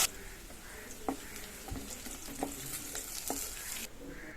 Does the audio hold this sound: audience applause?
no